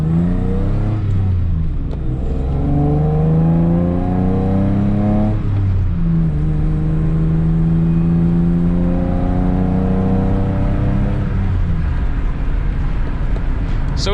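A 1997 Toyota Tacoma 5-speed pickup on a fall drive, heard from inside: a loud, continuous engine drone whose pitch climbs as it revs, drops with each gear change, then climbs again.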